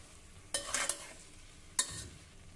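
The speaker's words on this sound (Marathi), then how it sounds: "अर्धा ते 1 मिनिट आपण हे जरा परतून घेऊ." Slices sautéing in a cooker for masala rice, two brief scraping stirs through a soft sizzle, close and quiet.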